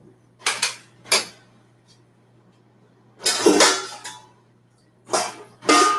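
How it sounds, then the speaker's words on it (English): Short hissing bursts of tap water rinsing a plate, four or five separate splashes with quiet gaps between, close and fairly loud over a faint steady hum. "I'm gonna rinse this plate off real quick"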